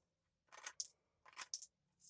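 Coins sliding out of a spring-loaded coin organizer, two pairs of quick metallic scrapes and clicks with a final one, close and quiet against near silence, with no voices.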